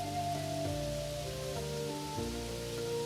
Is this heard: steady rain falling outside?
yes